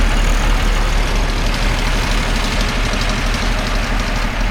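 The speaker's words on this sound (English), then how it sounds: "Left the engine on." A camper van's engine idles in deep Arctic winter snow, a loud, steady, close diesel-like rumble with a low knocking pulse and no voices over it.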